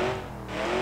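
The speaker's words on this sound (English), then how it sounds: "Low speed burnout, I guess." A truck in a video game doing a low-speed burnout, a steady loud engine drone with a droning tone and faint tire squeal running through the whole short stretch.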